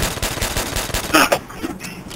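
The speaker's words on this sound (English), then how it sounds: "Alternate shooting bullets" Rapid gunfire in Call of Duty World at War zombies mode on the Nacht der Untoten map, a fast burst of repeated shots followed by a sharper crack and a quieter tail, with faint voices in the background.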